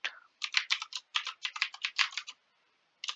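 Rapid bursts of keystrokes on a computer keyboard as a password is typed, a steady run of clicks for about two seconds, a pause, then a few more taps; close and clear with no talking.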